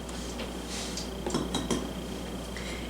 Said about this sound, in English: in small bowl, we are going to whisk our heavy whipping cream